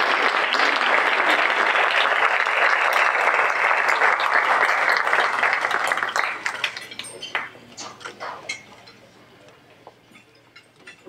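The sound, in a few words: audience applause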